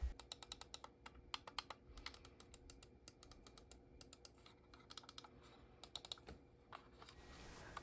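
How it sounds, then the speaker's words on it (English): A Logitech M510 wireless mouse clicks repeatedly in quiet close-up, crisp sharp clicks in irregular bursts and rapid pairs, faint and isolated with no talking. "listen to the clicking noises on this mouse"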